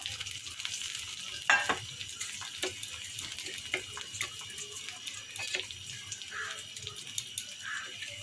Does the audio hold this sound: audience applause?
no